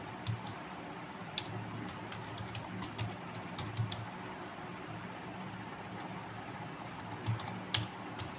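Typing on a computer keyboard during a coding lesson, soft irregular key taps and occasional sharper clicks, fairly quiet and close, with no talk.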